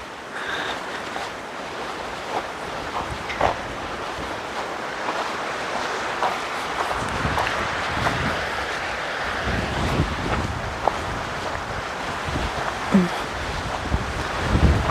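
Strong wind blows outdoors in open country, a loud rushing roar buffeting the microphone in gusts that swell and build toward the end.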